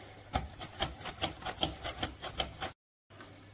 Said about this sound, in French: La découpe de mes courgettes est terminée.